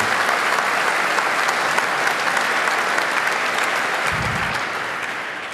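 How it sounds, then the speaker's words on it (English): An audience at an IQ2 debate on copyright applauds the panel, with dense, sustained clapping from a large crowd that holds steady and then begins to fade toward the end. "a big round of applause for our panel"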